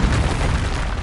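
Confringo spell explosion in the game Hogwarts Legacy: a loud, low, rumbling blast filling the whole second, close and sustained with no talk.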